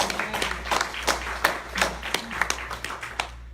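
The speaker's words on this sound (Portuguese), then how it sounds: "Quem pode aplaudir ao Senhor por isso?" A church congregation applauds during a sermon, scattered hands clapping in uneven bursts over a low steady hum, moderately close, with no speech over it.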